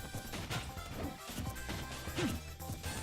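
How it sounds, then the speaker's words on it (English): Forward smash attacks landing in Super Smash Bros Ultimate, several sharp crashing hits at irregular intervals over game music and effects, fairly faint overall. "I can hit good forward smashes"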